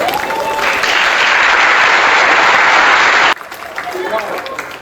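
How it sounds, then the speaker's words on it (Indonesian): Audience applause after a speaker's talk, a loud dense burst of clapping that swells in and holds steady for about three seconds before cutting off abruptly, leaving voices talking afterward. "kasih tepuk tangan untuk dia."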